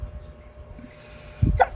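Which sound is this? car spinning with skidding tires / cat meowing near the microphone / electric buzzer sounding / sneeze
sneeze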